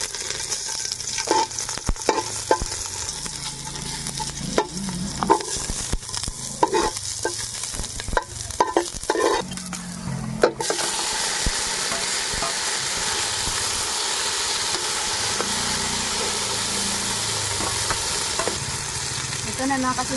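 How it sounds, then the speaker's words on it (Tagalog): Stingray pieces sautéing in a pan for Filipino ginataang pagi in coconut milk, with scraping and stirring knocks over the first half, then a steady, close sizzle of frying that carries on alone to the end. "Sa akin ay pinadaan ko muna sa gisa."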